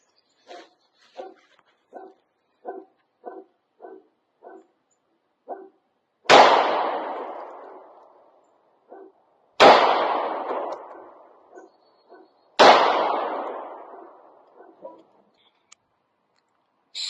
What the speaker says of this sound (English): Now we're shooting the Walther F series at 12 yards.